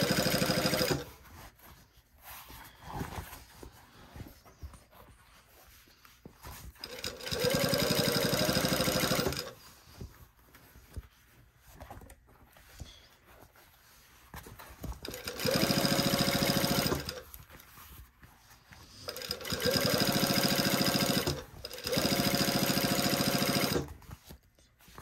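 A sewing machine quilting fabric runs in several loud, sustained bursts separated by pauses, slowing over thick crossed seams, with quieter handling noise between the runs.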